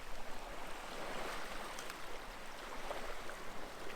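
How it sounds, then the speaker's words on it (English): A steady, soft wash of an incoming ocean tide on a sandy beach at sunrise, continuous and fairly distant with gentle swells rising and falling. "So the tide keeps coming in pretty quick."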